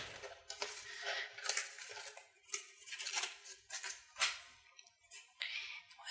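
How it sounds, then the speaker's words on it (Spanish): Crinkly plastic wrapping is pulled off a Woxter Stinger FX80K gaming keyboard, with repeated sharp rustles and crackles at close range. "Vamos a sacarlo del plástico."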